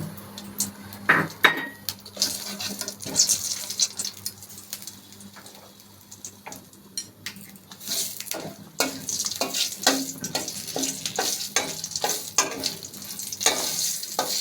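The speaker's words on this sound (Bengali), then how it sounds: "তেজপাতা, দুটো শুকনো লঙ্কা আর সামান্য কালো জিরে ফোড়নে দিলাম।" Bay leaf, two dried red chillies and nigella seeds sizzle in hot mustard oil as the tempering for masoor dal with vegetables, a steady close frying hiss broken by scraping stirs and clinks of a spoon against the pan.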